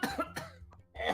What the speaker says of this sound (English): Why are we coughing?